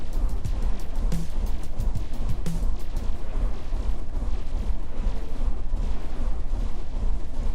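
A grenade launcher fires rapidly in the video game Incremental Tower Defense, a dense barrage of thumping blasts and pops repeating nonstop over a rumbling background, loud and without talk.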